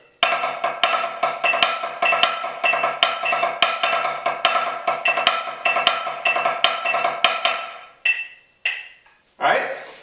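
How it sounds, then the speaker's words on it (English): Drumline snare exercise in a triplet grid with diddles on the downbeats, twos section: tight, loud, evenly driving strokes with recurring accents, breaking into sparse separate hits and a last flurry at the end. "the twos section of the triplet grid with diddles on the downbeats, sounds like this."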